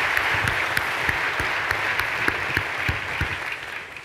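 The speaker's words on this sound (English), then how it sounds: "Big round of applause to Kay." Dense applause from a large keynote audience at a corporate tech conference in Barcelona, steady loud clapping throughout with scattered sharper claps, tapering slightly at the end.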